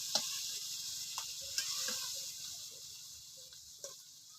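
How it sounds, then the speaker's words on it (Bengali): Fried prawns cooked down in a pan with a little milk, a steady soft sizzle with scattered light scrapes and taps of stirring, fairly close and quiet. "চিংড়ি মাছ ভালো করে কষিয়ে নিতে হবে।"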